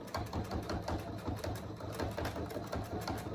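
A sewing machine runs a steady, fast needle rhythm while stitching a half-inch seam along the edges of a pet ramp cover, its close mechanical clatter continuing without pause.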